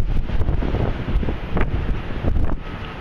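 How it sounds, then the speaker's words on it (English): Gusty wind buffets the microphone outdoors at the One World Trade Center construction site, a steady rumbling roar with a few stronger bursts and no speech. "the wind is kicking up again"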